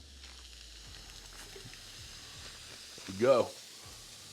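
Thick pub-style beef burgers seasoned with Lucky Shake sizzle on a Ninja Sizzle grill, a steady quiet frying hiss with a louder burst near the end as someone talks over it.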